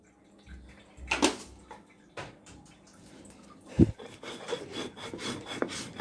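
Black cumin paste with salt is ground by hand on a grinding stone, producing quiet, intermittent rough scraping and rubbing strokes with short pauses between them.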